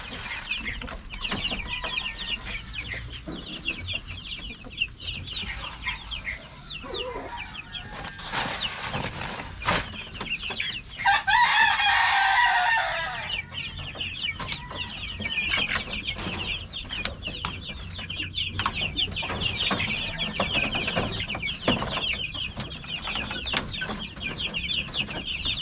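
Chickens cluck continuously while pecking at a mixed feed on a farm, with overlapping bird calls and one louder squawking burst near the middle, steady and close with no speech.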